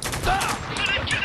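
Gunfire in the war shooter Spec Ops: The Line, a dense, continuous clatter of shots and explosive noise filling a brief moment, loud and close.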